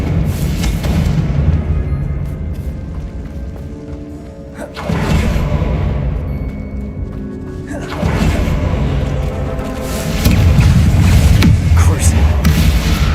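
Confringo explosion spells in Hogwarts Legacy go off as loud crashing booms, three big blasts a few seconds apart with rumbling tails, heavy and close, while a voice talks over them.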